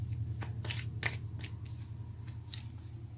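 Tarot cards being shuffled and drawn by hand, giving a string of quick, crisp riffling and snapping bursts close up, with a low steady hum underneath.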